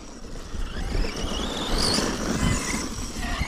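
A small electric scooter motor whines at high revs, a steady close buzzing drone that rises slightly in pitch midway.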